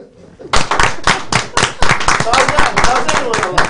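Several people clap in a quick, uneven burst of applause close by, starting abruptly and continuing steadily, with voices mixed in.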